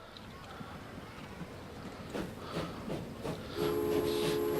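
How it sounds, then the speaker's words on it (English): A steam train pulls out of a station in the video game Transport Fever, with a low rumble that swells and chuffing pulses, ending in a sharp whistle over the engine noise. "Shall we let that one leave the station first?"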